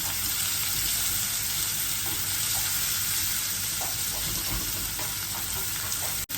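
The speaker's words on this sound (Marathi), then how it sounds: "कांदा चांगला लालसर तळू द्यायचा त्या तेलामध्ये" Chopped onion frying in hot oil in a pan with a little salt, giving a steady, loud, continuous sizzle with faint scraping stirs and no voices.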